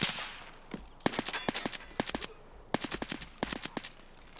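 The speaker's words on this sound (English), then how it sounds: "There's another guy shooting at me" Video game gunfire at a lighthouse camp cracks in rapid bursts and scattered single shots, some sharp and close and others slightly farther off, with no talking.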